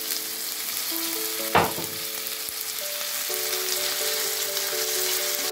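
Onion and tomato with garlic sizzle steadily in a pan for a paella sofrito, a continuous, fairly close frying hiss with one brief louder clatter early on and faint tonal hum beneath.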